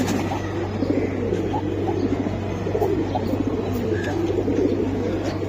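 Large pigeons cooing steadily in a crowded pigeon market stall in Bangladesh, a dense low murmur of many birds under a constant hum, with occasional brief chirps and no talking.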